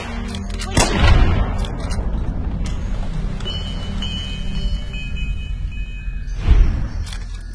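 Gunfire in Fallout: New Vegas: two loud, booming shots several seconds apart, with quieter game noise and a rumbling background in between.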